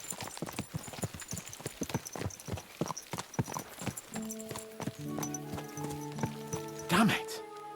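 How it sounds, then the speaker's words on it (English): Horse hooves clip-clop in a brisk, steady rhythm in the video game Kingdom Come Deliverance II, close and clear, with a horse whinnying near the end and a voice talking over the hoofbeats. "Let's really spur these horses on, eh?"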